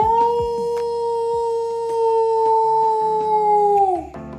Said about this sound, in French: Avec ces hurlements, vous avez sans doute deviné de quoi nous allions parler.